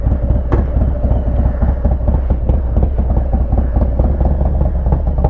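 A 2020 Harley-Davidson Low Rider S motorcycle engine runs steadily and loud up close, a continuous deep rumbling throb with a fast mechanical clatter throughout, no voices.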